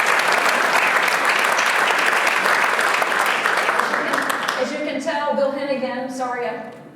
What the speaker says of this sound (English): please give a huge round of applause, Adrian, all of our new officers.